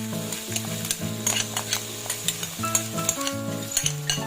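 Anchovies with coarsely blended chili sizzle steadily in a pan as a utensil stirs with soft scrapes and taps, all under continuous background music.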